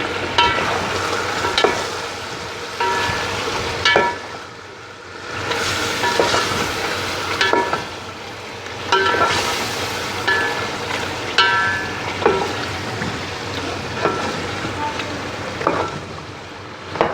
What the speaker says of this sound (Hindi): अब हम इसमें ऐड करेंगे दही और साथ ही हरी मिर्चें